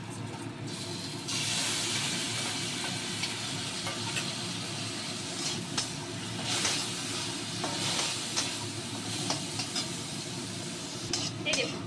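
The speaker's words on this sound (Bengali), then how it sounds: "এবার আমি এই মিশিয়ে রাখা সসটা এতে দিয়ে নিচ্ছি" Mixed sauce hits boiled vegetables in a hot pan for Chinese fried rice, setting off a loud, sustained hissing sizzle with scraping stirs, and a voice speaking faintly underneath.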